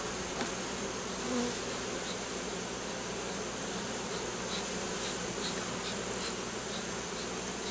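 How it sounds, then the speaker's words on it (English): Honey bees swarm around an open hive during a beekeeper's hive inspection, making a soft, continuous buzzing drone that stays faint and even throughout, with no talking. "there's a lot of bees here"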